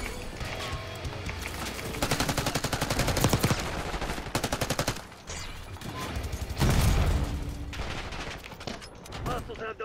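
Rapid bursts of automatic gunfire in a video game, dense rattling volleys with brief gaps and a heavier blast near the end, loud and close, with a voice talking briefly underneath.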